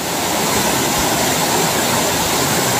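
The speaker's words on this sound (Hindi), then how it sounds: "बहुत ही बढ़िया झरना है। इसके आवाज़ को सुनिए" A waterfall at a Sheetla Mata temple site pours onto rocks in a loud, steady roar of rushing water, constant and close with no break.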